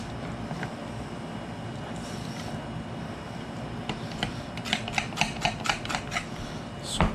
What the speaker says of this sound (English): Give them a little scrape